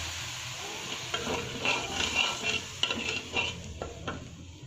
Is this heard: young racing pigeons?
no